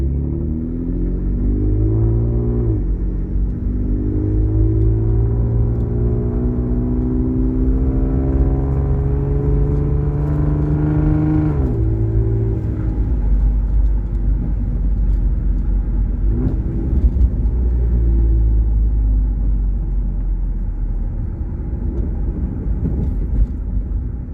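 A tuned car drives in automatic sport mode, its engine drone rising as it holds each gear before shifting down on its own. The engine note climbs, drops, then settles into a lower rumble, steady and close, with no talking.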